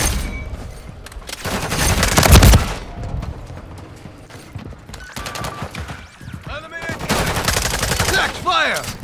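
Automatic gunfire in Call of Duty Modern Warfare 3 multiplayer on the Rust map, loud rapid bursts with pauses between them, some shots near and sharp, others more distant.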